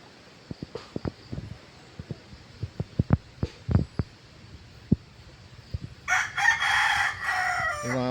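A rooster, a gamecock among kept fighting birds, crows near the end after a series of soft thumps and clucks, the crow loud and close rising over quiet surroundings.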